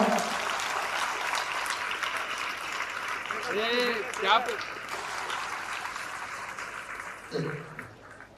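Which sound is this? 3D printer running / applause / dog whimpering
applause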